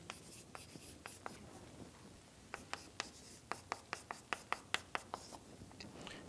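Chalk or marker taps and scratches sharply on a board as equations are written in a lecture room, a rapid irregular run of close clicks that gets busier toward the end.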